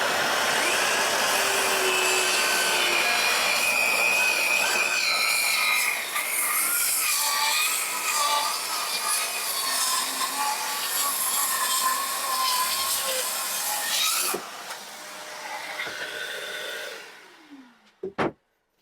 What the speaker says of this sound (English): Let's get a chunk of natural timber in here and we'll give the 24-tooth wood blade a quick run out